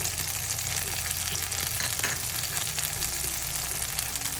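Tomatoes sautéing slowly over a low flame for a Tirupati-style coconut chutney, an even dense sizzle with occasional faint stirring, steady and close with no talking.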